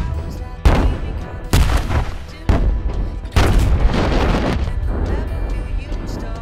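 Explosive charges set for avalanche control in snowy mountains detonate as a series of about four heavy booms, each a sharp onset followed by a long rumbling roll, close and loud with no talking.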